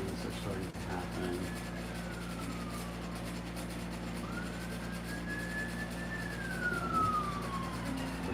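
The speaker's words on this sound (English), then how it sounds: "You can hear the sirens." A distant siren wails, rising and falling in long slow sweeps over a low background hum.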